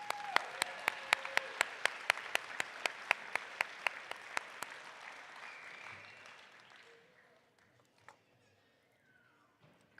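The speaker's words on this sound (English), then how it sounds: "Let's give him another round of applause." Scattered applause at a high school equivalency and adult education graduation ceremony: sharp, sparse claps in a steady rhythm that thin out and fade after a few seconds, leaving quiet room noise.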